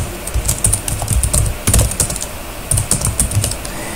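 Rapid, irregular clicking of a computer keyboard as a title is typed, close and clear, arriving in short bursts with brief pauses and no talking.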